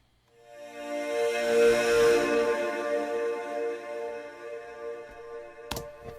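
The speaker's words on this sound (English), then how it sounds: "very soft eighth note stereo tremolo that just kind of pushes it side to side" A bright sustained synth chord swells in and holds, its volume gently pulsing with a soft, quick eighth-note stereo tremolo pushing it side to side, then fades away.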